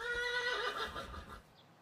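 Cartoon horses whinny in a stable, a single bright, wavering neigh lasting over a second and then fading, fairly clear with no talk over it.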